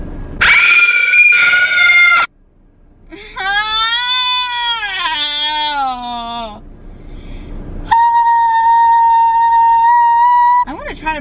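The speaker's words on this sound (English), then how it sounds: "Do you want me to scream louder?" A young girl screams loudly indoors in three long, shrill bursts. The first is short and piercing, the second is a wavering wail, and the last is a steady high shriek, with short pauses between them.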